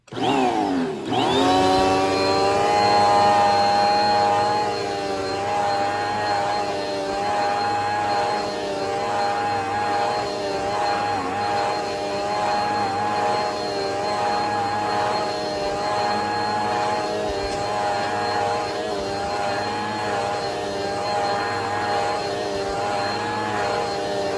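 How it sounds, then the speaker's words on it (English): A Bissell Power Force Helix Turbo Rewind Pet upright vacuum cleaner starts up and runs steadily, a loud, continuous motor whine with tonal harmonics and a slight pulsing rhythm, heard alone without talk. "Next, the Bissell Power Force Helix Turbo Rewind Pet."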